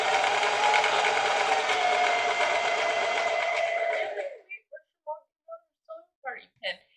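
A sewing machine runs steadily for a few seconds stitching fabric with boning, a continuous close motor whir, then stops, followed by short bursts of speech.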